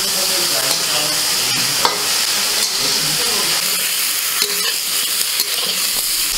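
Brinjal pieces fry lightly in hot oil in a kadai, giving a steady, close, hissing sizzle with occasional scraping knocks from stirring and no talking.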